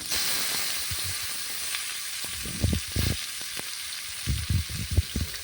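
Fish frying in coconut oil over ginger and green chilli, a steady close sizzle and hiss with louder spitting crackles bursting in clusters toward the end.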